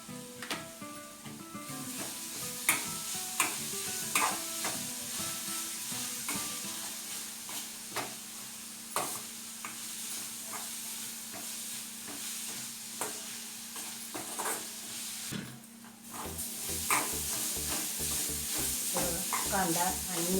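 Onion and green chili fry in a pan with a steady close sizzle, with spoon stirring and scraping scattered throughout.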